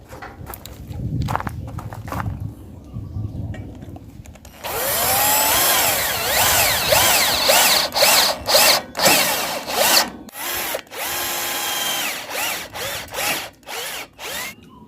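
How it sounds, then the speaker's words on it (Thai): A power drill whines as self-drilling screws are driven into steel for a chair frame built from car parts, starting with one long run and then several short, sharp bursts with brief pauses between. "เป็นสกูหัวเขาเรียกหัวสว่านครับ เจาะเหล็กได้แล้วครับ"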